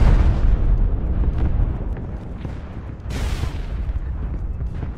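Mortar shells exploding in the mech combat game MechWarrior Online, a loud, continuous rumbling barrage of blasts with a sharper burst near the middle and no voices over it.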